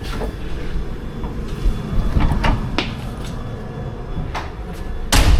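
A London Underground Piccadilly Line train rumbles steadily nearby, with sharp clunks and rattles of doors or carriage fittings breaking through and a loud burst near the end.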